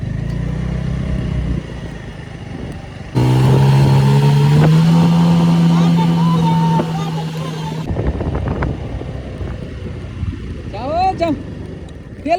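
A worn-out, junky motorbike is ridden with its engine droning loudly and climbing in pitch for several seconds before easing off, with wind rushing over the microphone and people talking throughout.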